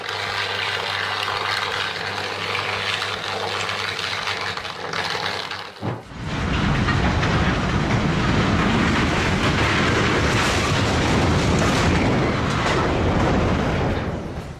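An electrical short circuit on overhead train wires at a railway station in India: a steady electrical hum, then a sharp crack near six seconds followed by a loud, sustained crackling roar of arcing that continues to the end.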